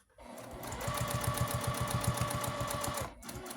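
A sewing machine stitches back over an earlier seam on a homemade table mat, a fast, steady rhythmic clatter close by that starts abruptly, runs for about three seconds and then stops.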